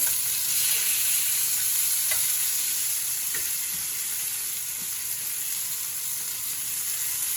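Pork chops sizzle in a frying pan with a continuous, loud hissing crackle close by, broken by a few faint scrapes of the pan.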